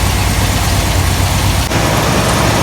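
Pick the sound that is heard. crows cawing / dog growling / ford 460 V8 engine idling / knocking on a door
ford 460 V8 engine idling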